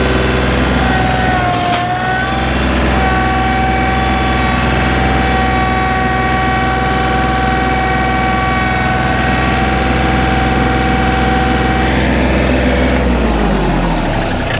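A tractor engine labours steadily and loudly at close range while tilling very dry, hard ground, a deep continuous drone with harmonic whine that dips briefly as the load shifts, with no talking.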